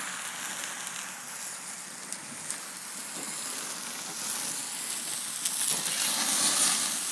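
A big single-bone prime rib sears on a barbecue grill amid flare-ups, giving a continuous crackling sizzle with sporadic pops, fairly close and growing slightly louder toward the end.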